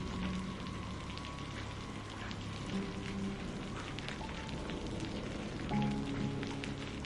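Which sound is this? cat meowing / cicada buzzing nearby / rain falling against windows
rain falling against windows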